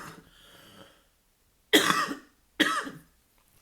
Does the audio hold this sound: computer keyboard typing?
no